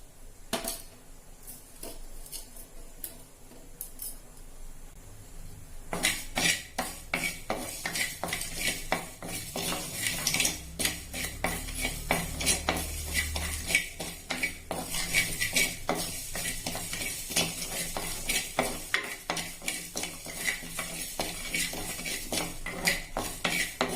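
Dry fenugreek, cumin, black pepper and a little rice stirred in an oil-free clay pot, giving quiet scraping and light clattering that starts after a near-silent opening and keeps going steadily to the end.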